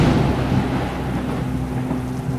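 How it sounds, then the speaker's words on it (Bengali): A loud thunder clap sound effect in a Bengali paranormal audio story, a heavy rumbling boom that rolls and fades gradually with a rain-like wash underneath and no voices. "হঠাৎ বাইরে কোথাও খুব জোরে একটা বাজ পড়ল।"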